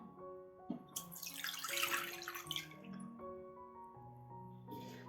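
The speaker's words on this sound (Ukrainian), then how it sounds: "У нашу ємність виливаємо воду." Water pours in a splashing stream into a container for bread dough for a couple of seconds, faint and close, with soft clinks and drips before and after.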